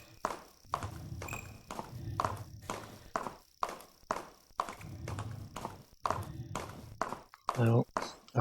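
Horse hooves clip-clop at a steady walking rhythm in the video game Stars End, close and clear, with a brief snort or whinny near the end.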